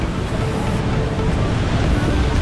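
Ocean water surging steadily in Thor's Well, a rocky sinkhole on the Oregon coast, heard as a continuous broadband rush of churning surf with wind noise across the microphone.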